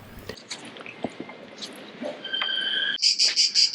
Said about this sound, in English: what you're listening to there is either a cricket or a cicada